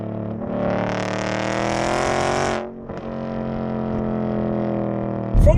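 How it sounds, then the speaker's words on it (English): Supercharged 700-plus horsepower Roush Ford Mustang 5.0 V8 GT with Cook's headers, catalytic converter and rear box delete, revving hard. A loud, raspy exhaust roar climbs, drops off briefly, then settles into a steady drone before a final sharp burst. "Now the sound is from the Cook's headers with a catalytic converter still in the car, but with a back box delete."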